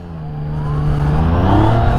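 A Yamaha MT-09 motorcycle engine in standard mode accelerates on a ride, its loud, steady note climbing in pitch as the revs build, with no talking.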